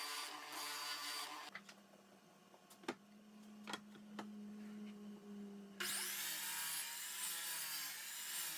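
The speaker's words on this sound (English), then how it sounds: "I trim them down to the right dimension." A saw trimming wooden boards for cutting boards, a loud cutting burst at the start, then a quieter stretch with a steady hum and a few sharp knocks, before the loud sawing resumes.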